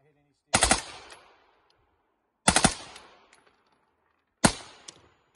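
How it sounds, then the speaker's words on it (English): A full-auto Glock 17 with a Microtech Defense Industries 9mm suppressor fires three short, sharp bursts about two seconds apart, each a rapid cluster of muffled cracks with a quick ringing tail. "we got the Microtech Defense Industries 9mm suppressor on the front of the Glock 17"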